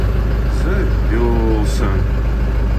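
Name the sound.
Bizon 777 combine harvester engine starting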